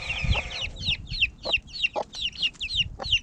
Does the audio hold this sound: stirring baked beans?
no